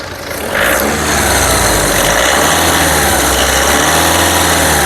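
A 2015 Volkswagen Polo Comfortline engine revs up close, rising from a low idle into a steady, loud sustained rev on acceleration with no talking over it.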